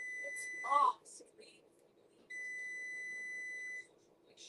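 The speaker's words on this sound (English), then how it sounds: "that air fryer beeps way too loud" An air fryer beeps loudly indoors, a short electronic tone, then after a pause a steady sustained beep lasting over a second, with faint room noise and some voices or movement in between.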